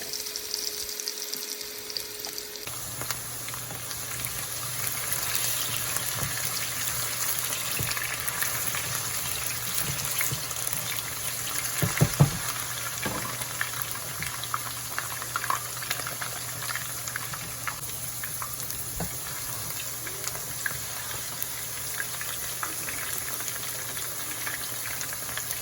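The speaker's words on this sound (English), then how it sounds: "let us go into fry these potatoes until it's a little bit brown" Potatoes frying in oil in a pan, giving a continuous, even sizzle and bubbling hiss throughout, with a few brief louder crackles partway through.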